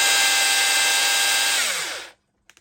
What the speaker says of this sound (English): We'll put it onto a normal hammer, normal drill.